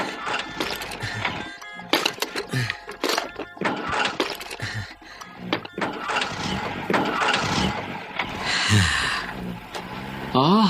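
An old bus engine cranks and catches, giving a loud, rattling, clattering roar with sharp knocks and bursts that continue without a break.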